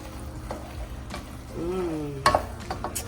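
A spoon stirs chopped Italian parsley and garlic paste through a vegan eggplant dish in a pan, with a gentle sizzle, a few scrapes and light clacks near the end.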